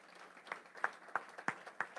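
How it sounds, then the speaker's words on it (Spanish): Faint, evenly spaced claps from a church congregation during a Spanish-language sermon, five or six distinct sharp hits in a slow rhythm, distant and quiet. "Denle un aplauso al Señor"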